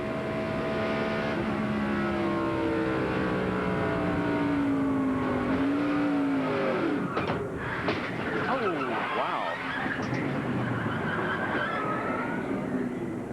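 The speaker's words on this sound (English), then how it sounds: "Rich Bickle has spun up in turn number 3, and here it is from his onboard camera." Onboard sound from a NASCAR Winston Cup race car at the 1997 Brickyard 400, Indianapolis Motor Speedway, just after spinning in turn three: a loud, continuous engine drone whose pitch sags and swoops before climbing again, with rough mechanical noise throughout.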